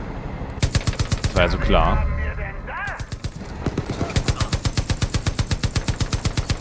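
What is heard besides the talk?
machine gun firing at the ground in video game Far Cry 5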